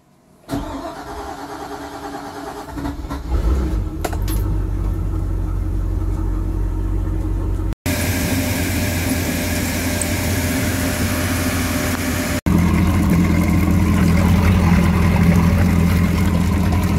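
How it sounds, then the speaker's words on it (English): A MerCruiser boat engine on earmuffs hooked to the outdrive cranks and starts, then settles into a loud, steady running rumble as it warms to operating temperature, with abrupt level shifts partway through. "we're going to run the motor till it's up to operating temperature"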